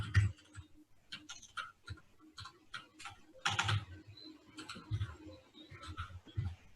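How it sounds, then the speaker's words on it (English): Computer keyboard being typed on awkwardly from waist height during a network security demo, a run of irregular clicks and key taps, fairly close and moderately loud with no talking. "difficult typing with the keyboard at my waist"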